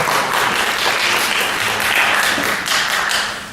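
A seated audience at an international forum applauds, producing a sustained, fairly loud crackle of many hands clapping that swells slightly before tapering off at the end.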